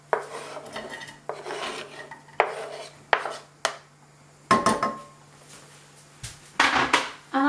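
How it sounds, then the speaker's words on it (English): Onion added to cooking oil in a cold pan, heard as a series of clattering, scraping knocks and rattles from utensil and pan, close and fairly loud, with no talking. "Into that I'm going to add my onion."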